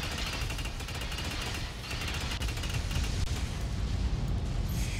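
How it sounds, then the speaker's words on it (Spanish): Continuous rumbling blasts and crackling booms from the game Starbase, dense and loud throughout with no pauses, building slightly toward the end. "Me encantan las explosiones"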